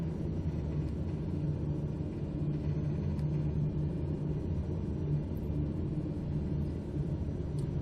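Aircraft engines rumble steadily while the plane taxis in Flight Simulator 2020, a continuous low, even drone with no talking over it.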